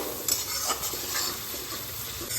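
Ground coriander, cumin, Kashmiri chilli and dry chilli powders frying and being stirred in a pan, a steady soft sizzle with faint scraping throughout, no voices.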